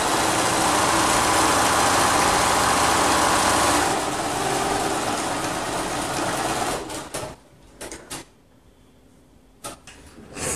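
A sewing machine runs a quarter-inch stretch-stitch seam on a knit tee sleeve, a loud steady whir lasting about seven seconds, then stopping into a few short handling clicks and rustles.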